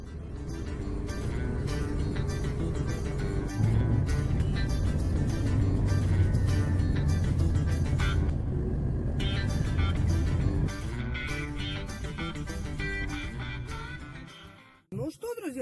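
Steady engine and road rumble from inside a car on the road toward the town of Stupino, continuous and fairly loud throughout, with a dip near the end.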